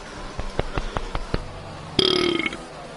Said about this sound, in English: Hold on, let me get this burp out.